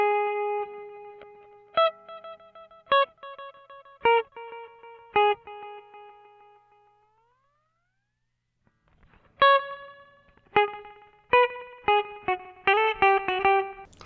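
Guitar notes pass through a BOSS RE-2 Space Echo tape echo pedal with the repeat rate turned, so each plucked note trails echoes. The gaps between repeats change, and a cluster of quick repeats builds near the end.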